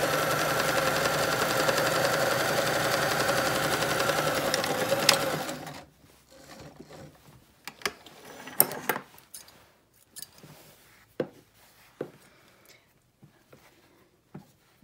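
A sewing machine hums steadily as it stitches a fitted fabric face mask with a T-shirt lining, running continuously for several seconds before stopping, followed by scattered handling clicks and taps.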